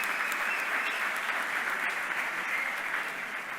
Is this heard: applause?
yes